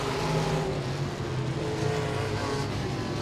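Modified race cars roar around Langley Speedway, a dense continuous engine drone from several cars at a distance, loud and sustained with no clear pass-by peak.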